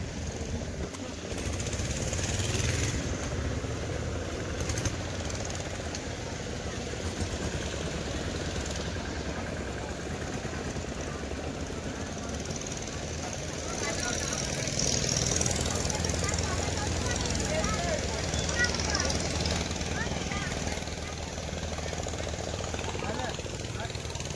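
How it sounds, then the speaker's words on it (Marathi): A boat engine drones steadily as the boat moves along, a low rough mechanical rumble with a faint rattling knock, continuous and moderately close throughout. "आपली होडी चाललेली आहे. बघा असा आवाज."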